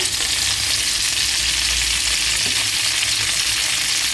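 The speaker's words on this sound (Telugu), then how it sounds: "ఇప్పుడు కడిగి పెట్టుకున్న గోంగూర వేసేసుకోవాలి." Washed gongura leaves frying in hot oil, giving a steady, dense, hissing sizzle that holds at an even level throughout with no talking.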